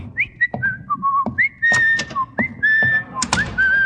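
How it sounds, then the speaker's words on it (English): A person whistles a short, bright melodic tune of sliding notes with quick pauses between phrases, close and clear, over a faint low background murmur. "I thought you were whistling for me."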